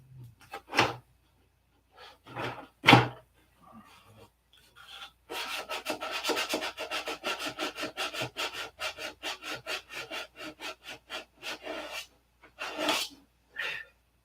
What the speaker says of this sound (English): Detail sanding.